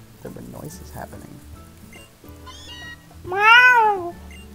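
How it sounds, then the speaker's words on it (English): A synthesized Meowth cry from the Pokemon Ultra Sun video game, a single loud rising-and-falling harmonic wail lasting about a second, preceded by softer game tones and a brief voice. "That's the noise Meowth makes, apparently"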